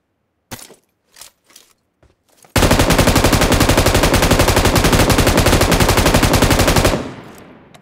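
Video game gunfire in PUBG on the Erangel map: a few scattered shots, then a long sustained burst of rapid automatic fire, loud and continuous, cutting off abruptly and leaving a fading echo.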